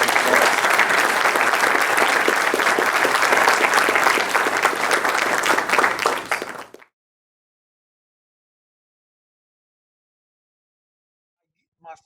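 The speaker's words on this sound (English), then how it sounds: "Let's give Megan a big round of applause." Audience applause for a speaker at a talk, dense clapping from a full room that holds steady for about six seconds, then stops abruptly into silence.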